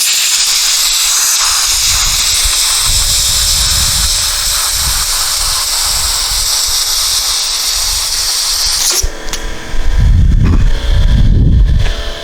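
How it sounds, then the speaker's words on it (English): A small shop compressor's air nozzle blasts debris out of a damaged roof, a loud continuous hiss lasting about nine seconds before cutting off, followed by rougher bursts of rushing air. "Here's some compressed air."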